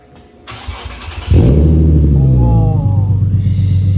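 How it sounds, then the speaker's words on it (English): An Infiniti G37 fitted with an ISR exhaust and Y-pipe cranks with a brief starter whine, then fires into a loud deep rumble that flares and settles into a steady idle nearby. "the exhaust is put on, and now it's time to hear how it's gonna sound"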